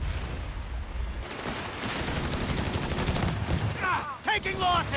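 Sustained gunfire and artillery blasts from a Company of Heroes 3 2v2 World War II battle, dense rattling shots and thuds throughout, with radio-style unit voice lines rising near the end.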